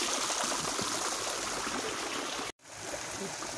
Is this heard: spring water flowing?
yes